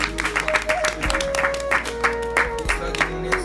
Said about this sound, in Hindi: सीमा बेदी जी, उनके लिए भी तालियां